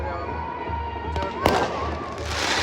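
Firecrackers pop and crackle against a steady, noisy outdoor background at a wedding party plot, with one sharp louder burst standing out midway.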